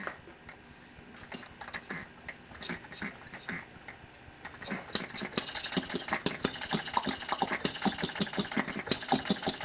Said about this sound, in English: So now when it's allowed to cycle, then it fires.